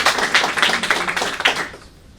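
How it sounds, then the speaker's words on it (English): A women's audience at a Global Women Power event applauds, a burst of quick, overlapping claps from a moderate-sized crowd nearby that fades out after about a second and a half. "Clap to all of us."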